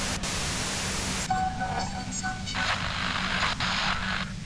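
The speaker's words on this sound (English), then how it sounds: "Her voice trails off into white noise in your head." Steady hiss of white noise in a head from the game Disco Elysium, a dense rushing wash that fills the whole clip with faint tonal flickers and shifting bands over it, no talking.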